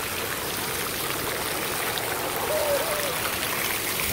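Hot spring water sprays and rushes in Hot Springs, Arkansas, a steady close hiss throughout with no one speaking.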